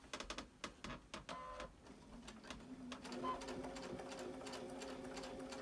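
A sewing machine runs in quick bursts of rapid stitching, then settles into a steady mechanical whir, fairly quiet and close.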